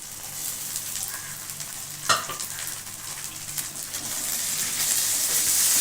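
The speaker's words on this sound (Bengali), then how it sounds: "ভালো করে নাড়বো" Ginger garlic paste sizzling in a hot pan while being stirred, a steady close frying hiss with a sharp scrape partway through, rising slightly toward the end.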